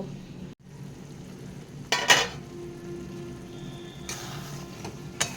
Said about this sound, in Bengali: ঢাকনটা দিয়ে দিচ্ছি দিয়ে মশলাটাকে কিছুক্ষণ কষিয়ে নেব